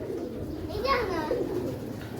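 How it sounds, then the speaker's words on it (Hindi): Domestic pigeons coo softly in a rooftop loft, a low throaty warble rising and falling over steady background noise, with voices nearby. "ये कबूतर हैं जी"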